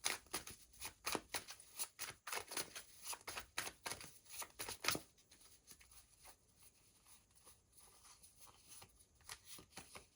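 Tarot cards shuffled and flipped, with quick riffling flicks in a rapid patter during the first half, then softer, sparser card sounds.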